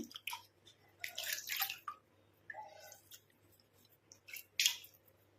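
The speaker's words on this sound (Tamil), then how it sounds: "நான் இப்போ வாஷ் பண்ணியே காட்டுறேன் ஃபேஸை." Face washed with water by hand, giving wet splashes and drips in short bursts with a soft squelch of palms on skin, close and fairly quiet, with no talking.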